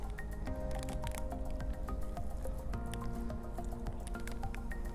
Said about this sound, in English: and now I'll add water.